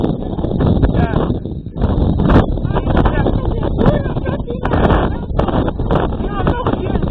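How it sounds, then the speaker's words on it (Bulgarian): Strong wind buffets the microphone in heavy gusts, with people talking underneath the roaring rumble, outdoors in Breznik, Bulgaria. "Има много силен вятър сега."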